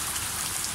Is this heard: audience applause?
no